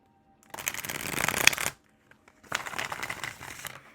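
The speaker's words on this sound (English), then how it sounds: "we'll just take whatever comes out when I shuffle first" A deck of oracle cards is shuffled in two bursts of crisp riffling and flapping, the first longer and louder, then a short pause before a second run; no one speaks.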